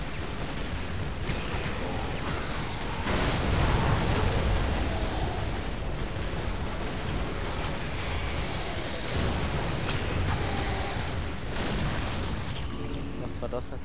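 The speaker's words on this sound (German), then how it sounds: "Das ist eine Explosion" Rumbling explosion in the game Lara Croft and the Guardian of Light, a loud sustained roar and boom that swells around the middle and carries on with game noise underneath.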